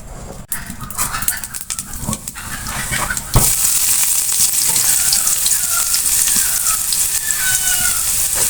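Chicken momo filling of finely chopped vegetables sizzling in a pan while being stirred, with scraping clatters at first, then a loud continuous hiss of frying.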